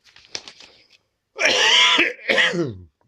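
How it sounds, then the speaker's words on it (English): A faint throat noise, then a loud, harsh cough in two bursts, close to the listener, with silence between. "again, apologies for coughing"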